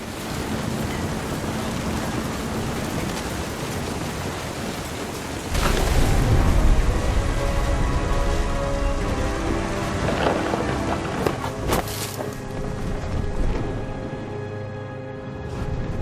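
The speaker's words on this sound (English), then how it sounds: "The thunder sounded much too close and full of angry power." A thunderstorm in the video game What Remains of Edith Finch, with steady heavy rain hissing throughout and deep rumbling thunder swelling midway, followed by softer crackling rolls under the downpour.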